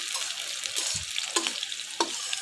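Cumin seeds, a little onion, garlic and green chilies frying in a wok, a close steady sizzle with a few sharp crackles and a soft utensil knock, no speech.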